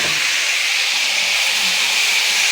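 Mushrooms sautéing in grapeseed oil, heard as a loud, steady, close hiss of frying that stays even throughout.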